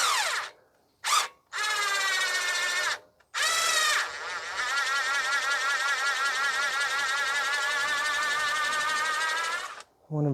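A rotary brush attachment on a power drill whirs against the rear brake caliper of a 2016 Ford F-150 3.5, loud close buzzing in short bursts, then a long sustained run with wavering pitch as the brush scrubs.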